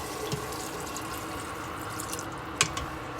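Hot water pours over beef in a pot for a squash and beef dish, making a steady close rushing stream with a few small splashes and drips, without talk.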